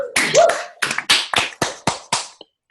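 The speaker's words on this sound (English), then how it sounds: "Round of applause." A short whoop opens, then about seven separate hand claps follow at an uneven pace, crisp and close, giving a sparse round of applause for a mastermind group.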